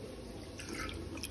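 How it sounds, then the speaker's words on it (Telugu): Water splashes briefly from a jar into a pot, a short soft pour with a brighter burst near the end. "నేను ఇవి ఇందాక కొత్తిమీర పట్టిన జార్ని ఇందులో వాటర్ పోస్తున్నాను"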